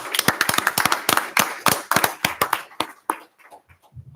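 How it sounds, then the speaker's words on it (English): Applause from a modest group at a regular council meeting, close and loud, a burst of sharp rapid claps that thins into scattered hits and fades out toward the end. "Give them one last big round of applause."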